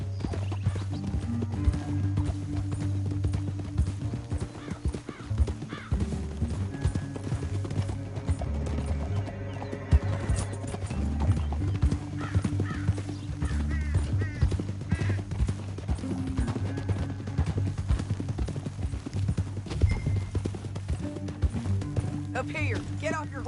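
Hooves clip-clop steadily through a PS4 Western video game scene, with a horse whinnying now and then, all under game music and spoken dialogue.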